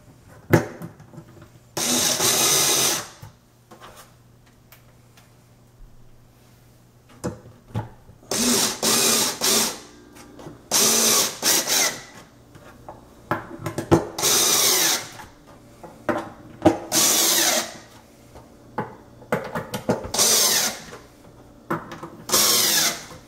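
A power drill drives screws into an IKEA Micke drawer unit during assembly, loud close bursts of whirring, about nine runs of one to two seconds separated by pauses with handling clatter.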